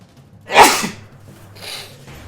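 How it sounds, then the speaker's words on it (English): A single loud, close sneeze bursts out with a sharp breathy onset, followed by a softer breathy exhale trailing off in an otherwise quiet room. "Hang on, I need to sneeze."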